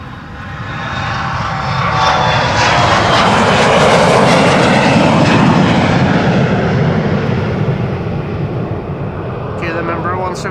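A KLM airliner's jet engines roar at Amsterdam Schiphol's Polderbaan runway, swelling loudly to a peak and then easing as the plane passes, with a voice heard over the noise.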